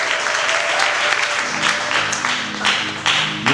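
A church congregation at a jubilee service applauds loudly and steadily, a dense wash of clapping that carries on for several seconds with a few voices faintly mixed in.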